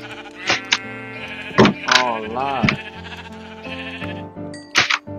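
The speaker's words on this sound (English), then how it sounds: "There's sheep." Sheep in the Minecraft video game bleat several times in short wavering calls, loud and close, while a player talks and reacts over game music.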